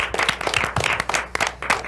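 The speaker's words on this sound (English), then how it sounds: "let's give a round of applause for Tim" An audience gives a round of applause for Tim, who is joining the show: dense, steady clapping from a room of people lasting the full two seconds, fairly close and continuous.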